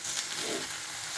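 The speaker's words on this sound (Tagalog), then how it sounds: "Pinakuluan sa mantika." Potatoes with onion and garlic fry in oil, giving off a close, steady, bright sizzle that holds evenly from start to finish with no talking.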